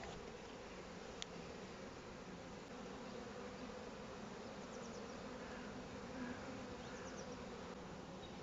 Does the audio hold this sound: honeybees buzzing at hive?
yes